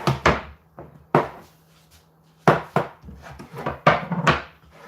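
A brownie pan is tapped down onto a wooden chopping board, making a series of sharp, hollow knocks in uneven clusters, some single and some doubled, close and fairly loud with no talking.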